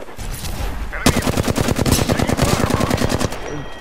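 Rapid automatic weapon fire in Apex Legends, a loud sustained burst of evenly spaced shots lasting over two seconds, preceded by quieter game ambience.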